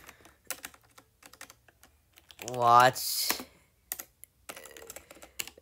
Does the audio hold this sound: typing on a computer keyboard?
yes